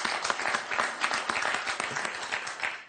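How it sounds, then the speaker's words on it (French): A French television word game show's studio audience gives a short burst of brisk, dense clapping at a moderate distance, steady throughout three seconds with no talk over it. "on peut l'applaudir."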